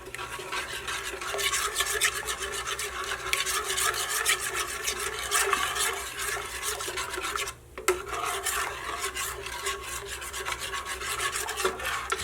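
A spoon or spatula stirs a thick no-bake peanut butter oatmeal cookie mixture, scraping and working out clumps in a bowl with a steady rasping, rubbing rhythm up close, briefly pausing once.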